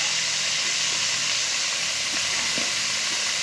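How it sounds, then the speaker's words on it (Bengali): Chicken pieces seasoned with salt and turmeric fry in a pan, giving off a loud, continuous close-up sizzle with faint pops and crackles. "দিয়ে খুব ভালো করে চিকেনগুলোকে আমি ভেজে নেব"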